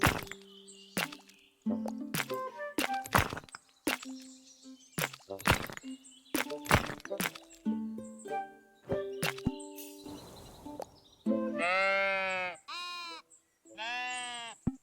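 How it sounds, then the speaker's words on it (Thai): Sheep in the video game Tiny Glade bleat several times near the end, a run of short wavering bleats following a series of sharp plops and clicks from building in the game. "นี่มีแกะสามตัวอยู่ในเมป"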